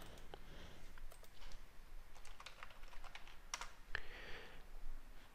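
A computer keyboard clicks under fingers typing a search, a quick, irregular run of soft, close keystrokes with brief pauses between bursts, fairly quiet throughout.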